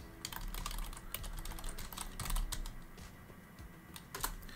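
Rapid typing on a computer keyboard while searching for Amazon bestsellers: crisp, irregular key clicks in quick bursts over a low background hum, with no voices.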